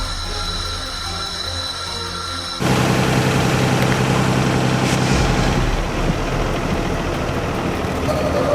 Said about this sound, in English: The engines hum with a deep growl,